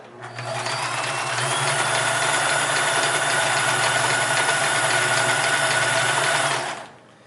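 A Sears Kenmore 158 series sewing machine stitches at a fast, steady pace, its close mechanical whir and rapid needle clatter starting up, running evenly for several seconds, then winding down to a stop.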